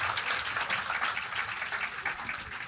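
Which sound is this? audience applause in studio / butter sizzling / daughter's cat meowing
audience applause in studio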